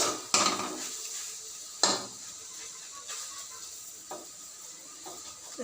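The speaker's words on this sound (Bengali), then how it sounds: "ওকে খুন্তি দিয়ে ঝেড়ে ঝেড়ে ঝেড়ে ঝেড়ে ভাজতে হবে" Jute leaves frying in a pan, stirred with a metal spatula: a few sharp scraping clanks spaced over several seconds above a faint, quiet sizzle, with no talk.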